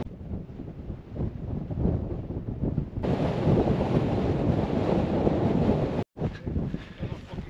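Strong wind on a winter mountain roars and buffets the microphone in a broad, loud rush that swells partway through and cuts out briefly near the end.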